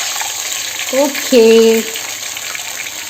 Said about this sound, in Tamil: ஸோ இப்போ வந்து நான் புளிக்கரைசலை வந்து ஊற்றிட்டேன்.